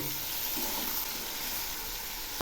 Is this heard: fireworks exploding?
no